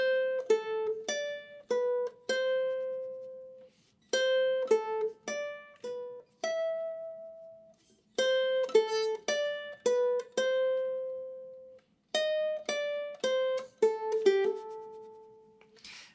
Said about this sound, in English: let's learn the melodic line, which sounds like this